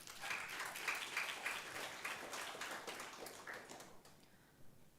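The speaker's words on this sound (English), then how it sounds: "Please give Father Rector a round of applause." An audience at an international seminar on social entrepreneurship claps for Father Rector: a steady, dense patter of many hands that holds for about four seconds, then thins and fades to a few scattered claps.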